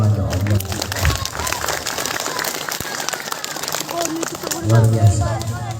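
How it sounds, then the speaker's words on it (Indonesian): A crowd at an evening Isra' Mi'raj religious gathering claps for the youth performers, uneven applause mixed with murmuring and a voice speaking over it. "tepuk tangan dulu untuk adik remaja Allah"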